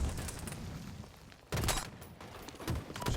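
Bursts of gunfire during a competitive Halo match at an HCS Major esports event, with a broadband burst starting midway and further shots after a quieter stretch.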